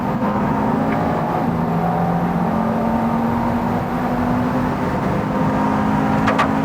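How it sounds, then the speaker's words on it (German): A car engine roars at steady high revs with a whirring turbo whine, loud and close throughout. "Wie du den Turbo hörst, ist so abartig."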